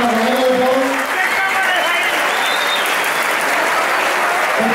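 Loud, sustained applause from a crowd at a Valencia CF supporters' club convention, filling the whole stretch as a thick wash of clapping with faint voices mixed in.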